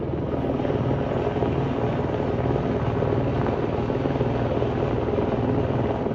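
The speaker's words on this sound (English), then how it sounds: "We have the choppers above." Steady, loud rotor thrum of two helicopters overhead in a California neighborhood, a continuous dense chopping roar with no pauses.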